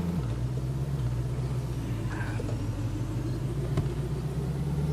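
A car engine in the Roblox game Vehicle Simulator hums steadily at a low, even pitch for the whole stretch, with no talking over it.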